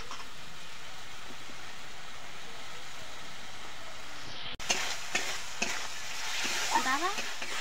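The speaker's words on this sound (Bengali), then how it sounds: "আদা জিরে পেঁয়াজ সব দিয়ে দিয়েছি, আর এর মধ্যে হলুদ লঙ্কা নুন সব দিয়ে মশলাটা ভালো করে কষে নেবো" Spice paste of ginger, cumin, onion, turmeric, chili and salt sautéing in a pan, a steady close sizzle with scraping stirs after a brief break midway.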